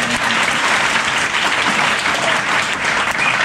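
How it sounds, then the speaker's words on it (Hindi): Loud, dense applause from a room of students at a coaching-class welcome, steady and continuous for the whole stretch. "एक बार आप लोग भी ताली बजाएं"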